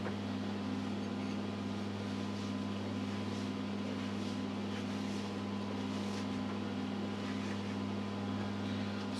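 British Seagull two-stroke outboard engine running or trying to catch, giving a steady low mechanical drone with a constant hum throughout, loud and unbroken with no talk.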